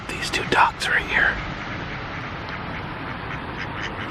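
A few short duck quacks close by from two ducks at a small amusement park, then a steady quiet background hiss.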